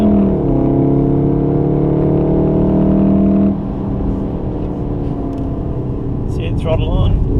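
A Volkswagen Golf R accelerating hard on a race track during a trackday, its engine a loud, sustained drone that shifts pitch partway through, heard from close by with an instructor's voice over it.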